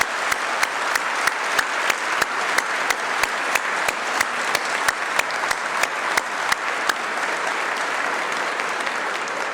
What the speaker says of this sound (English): Let's give all a hand clap to our supporters.